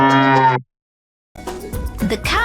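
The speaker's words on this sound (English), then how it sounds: "The cow says moo moo." A cow sound effect: a single loud, harmonic moo that cuts off abruptly, followed after a short silence by a rougher, noisier bovine call close to the microphone.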